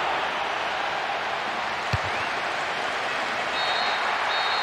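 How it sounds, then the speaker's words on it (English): A football match crowd roars in a stadium as the referee ends the game in a draw, a dense, steady wash of noise that holds without a break. "The referee ends the game and there's a huge roar from the crowd"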